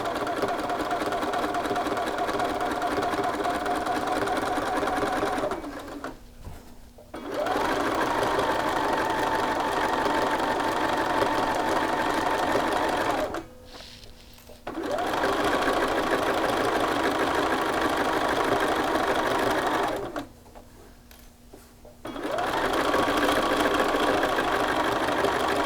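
Sewing machine stitching across a garment yoke, a steady loud motorized whir in three long runs separated by short pauses, with a faint voice during the gaps.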